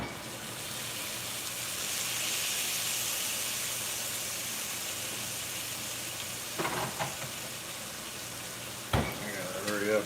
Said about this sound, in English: hit it with that Worcestershire now. This is gonna smoke up.